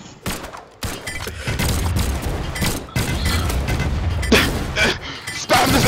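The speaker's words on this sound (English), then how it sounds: "just keep shooting cannons" Cannons fire repeatedly in the Brawlhalla video game, with pirate characters battling; a dense, continuous barrage of booming blasts and bursts fills the stretch, loud and close, with brief gaps between volleys.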